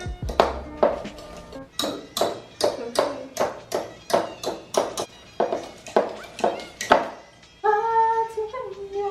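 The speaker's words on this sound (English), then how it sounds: "I kind of just use my hand whisk." Hand whisk beating batter in a bowl, a steady run of sharp clinking strokes against the bowl's side, close and fairly loud, ending in a few ringing tones.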